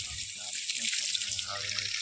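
Water runs steadily from a hose pipe during air-conditioner servicing, a continuous bright hiss and splash that holds at an even level for the whole stretch, with a faint low hum beneath.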